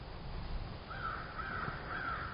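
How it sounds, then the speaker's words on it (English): Crows caw repeatedly from somewhere in the trees, a short series of harsh calls at moderate distance, over a steady background of breeze and rustling leaves outdoors. "and the birds are calling."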